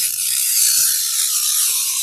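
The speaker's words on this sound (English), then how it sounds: "And now I'm going to spray the back of my background fabric, which has been stabilized with SF101." Aerosol adhesive sprayed onto the back of background fabric stabilized with SF101, a steady loud hiss lasting about two seconds and stopping abruptly, with no talking.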